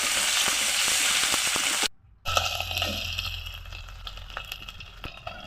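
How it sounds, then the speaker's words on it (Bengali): Ginger and garlic paste fries in a pan for a prawn and fig curry, giving a loud, steady sizzle that breaks off briefly, then returns as softer, crackling frying over a low hum. "এরপরে এখানে দিয়েছি আদা আর রসুন বাটা দিয়ে ভালোভাবে কষিয়ে নিতে হবে"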